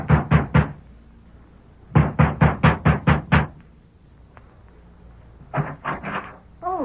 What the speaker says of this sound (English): is knocking at the door